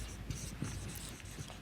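Writing during an accounting lecture on financial statements, a soft scratch of marks on a board or paper over a faint room hum, brief and close.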